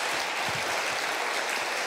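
A church congregation applauds in a steady, dense wash of clapping that fills the whole stretch, moderately loud and close, with no clear talking over it.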